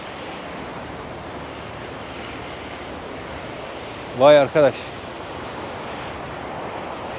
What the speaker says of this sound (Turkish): Hint okyanusunu da görmedik demeyiz. Burası da çok dalgalı.